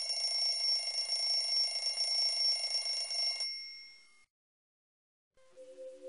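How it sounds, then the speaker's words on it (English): An alarm clock rings steadily inside a jar as air is pumped back in, a bright continuous ring that cuts off abruptly, followed by a second of silence and then a fainter, thinner ringing returning. "listen to the sound of the alarm clock as we pump air back into the jar"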